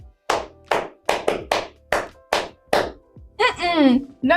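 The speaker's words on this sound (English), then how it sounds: "Clap, but just do the first clap." A person claps single, sharp claps close up, about eight in an uneven rhythm with brief pauses, followed by a voice speaking.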